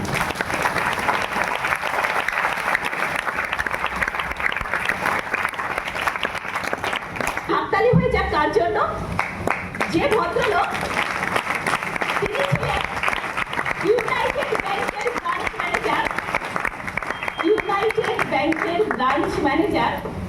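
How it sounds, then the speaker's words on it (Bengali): Sustained audience applause at a Bengali speaking event, a dense steady wash of clapping from a crowd lasting throughout, with a voice speaking intermittently over it in the middle and later. "একটা হাততালি হয়ে যায়"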